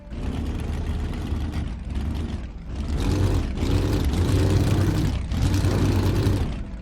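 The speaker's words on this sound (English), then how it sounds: "the engine runs a muscle car noise that I modulate according to the" Muscle car engine sound effect for a video game, modulated with acceleration: a loud, droning synthetic engine tone that swells and dips in several surges, rising in pitch as if revving through gears.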